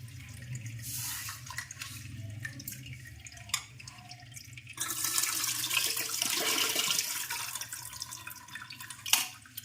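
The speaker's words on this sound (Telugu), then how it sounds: "ఇప్పుడు రాగులు కడుక్కొని నానబెట్టుకోవాలి. బాగా ఇలా పిసికి కడుక్కుందాం." Finger millet grains are rubbed and swished by hand in water, giving splashing, sloshing and dripping sounds close by that grow busier partway through, with no speech.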